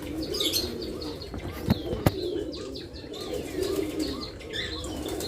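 Pigeons coo softly at a bird enclosure with several kinds of animals, with a couple of sharp wing-flap bursts and scattered chirps from other birds over a steady background murmur.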